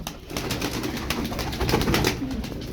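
Pigeons of a Turkish flying breed, flocked close by, give a continuous dense wash of soft cooing and fluttering that carries steadily throughout with no voices.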